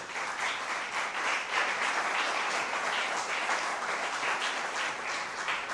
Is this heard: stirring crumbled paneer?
no